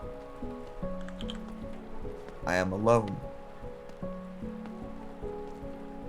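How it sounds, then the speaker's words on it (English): Rain patters steadily on an empty paved road while footsteps fall in a slow, regular rhythm beneath a low wind; someone speaks briefly in the middle. "There is no sound other than the rain and the wind and my footsteps on the road."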